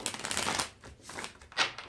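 A tarot deck from the Light Visions Tarot set is shuffled by hand, giving soft, close, papery riffling bursts that rise and fall over a couple of seconds, with no talking.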